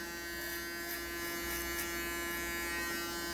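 An electric hair clipper fitted with a 6mm or 9mm guard cuts hair during a short sports cut at a barber school, making a steady, close, fairly quiet buzz with no talking.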